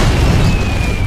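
Warship firing in Red Alert 2, a loud, sustained booming burst of cannon fire and explosion that fills the entire short moment with heavy low rumble.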